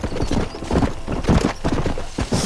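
Horse hooves clip-clop steadily in Red Dead Redemption, a brisk repeating rhythm of close, loud footfalls that carries through the whole stretch, with an occasional whinny-like texture mixed in.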